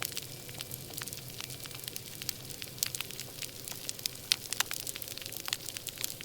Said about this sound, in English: The culprit here is basically the snapping shrimp.